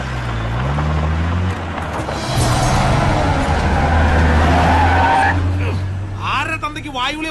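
A car engine revs as the car pulls away with its tires skidding and squealing, loud and close, in a Malayalam film scene.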